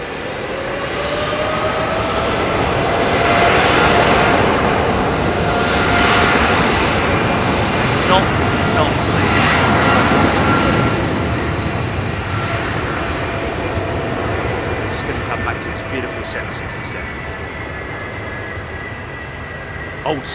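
A loud, steady roar of an older Pratt & Whitney jet engine at London Heathrow Airport, rumbling broadly and continuously, with faint clicks and chirps appearing near the end.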